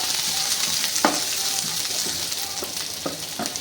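Curry leaves, green chilies and mustard seeds frying in hot oil in a pan, a continuous close sizzle broken by intermittent spoon scrapes and stirring clatter, no talking.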